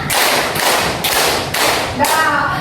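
A classroom group claps in unison, counting each clap aloud: about five loud, evenly spaced claps roughly half a second apart, close and sharp, with a voice counting along.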